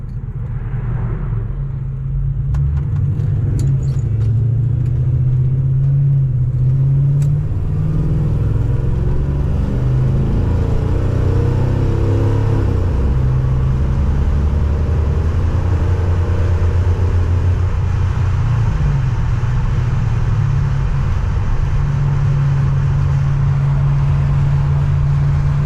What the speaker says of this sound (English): Get out here where I can make me a wide open throttle pull